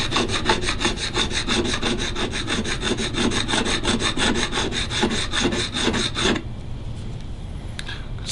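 A small piece of sandpaper rubs back and forth over a guitar fret to remove a scratch, a fast rhythmic rasping that runs steadily and close, then stops abruptly near the end.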